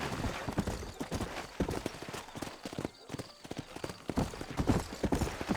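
Horse hooves pound at a gallop in the Western video game Red Dead Redemption, a steady rapid clip-clop running the whole way with a brief lull midway, loud and close, with a man briefly urging the horse on.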